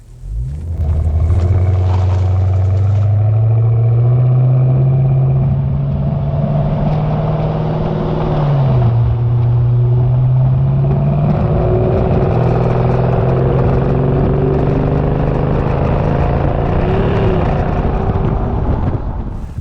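A supercharged V8 Jaguar XKR X100 drives along with a loud, steady engine drone and low rumble, the pitch rising and falling slightly with speed, heard from inside the car with no talking.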